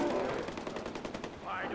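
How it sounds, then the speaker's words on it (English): Rapid bursts of automatic gunfire crackle through a Far Cry 4 firefight, dense overlapping shots stuttering across the whole moment, with a faint voice underneath. "Everyone's shooting."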